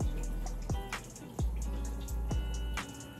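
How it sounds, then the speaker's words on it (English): Small splashes and drips of water sloshing inside a sauce jar as it is shaken and poured out during home pizza making, a few soft wet pulses over a few seconds, close and quiet. "Put just a hair of water in there. Shake it up. Pour that in there too."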